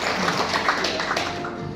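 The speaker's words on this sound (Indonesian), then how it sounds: "Tepuk tangan untuk beliau ya" Audience applause at an event led by an MC: a brief burst of dense clapping from a crowd, moderately loud and close, tapering off toward the end.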